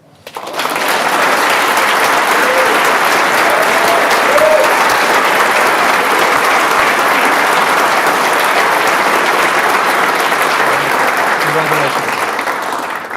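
An audience at a defense design competition finals gives a team sustained, loud applause after an award announcement, a steady wash of many clapping hands lasting more than ten seconds.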